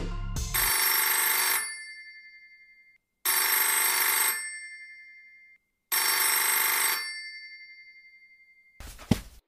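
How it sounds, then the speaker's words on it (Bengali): A phone rings with an electronic ringtone in three loud, evenly spaced bursts, each fading out, followed by a brief thump at the end. "এমন সময় তার ফোনটা বেজে উঠল"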